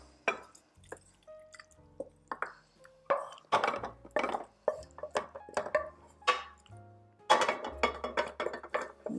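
Vegetables tumble and drop into a baking pan for a plant-based vegetable stew, making a run of irregular close-up clinks, taps and wet plops, some soft and some sharp, with brief pauses between handfuls.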